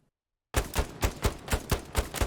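An M1 Garand rifle fires in Hell Let Loose, with eight loud, evenly spaced shots in quick rhythm after a brief silence, each a sharp, close crack.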